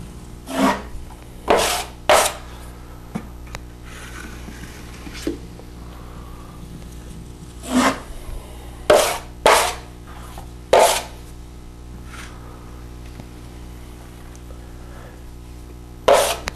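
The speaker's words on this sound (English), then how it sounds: "as we wipe down the wall, we just kind of skim lightly over the top of the texture" Drywall knives skim joint compound lightly over a textured wall, giving short scraping swipes that come in scattered bursts with quiet gaps between them, close and fairly loud.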